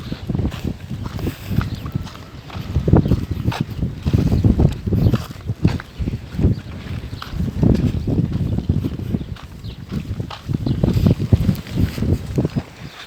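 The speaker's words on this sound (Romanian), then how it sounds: "bate vântul foarte tare, sper să mă auziți" Strong wind gusts roar and buffet across an outdoor vegetable garden, rumbling heavily against the microphone in continuous, surging waves.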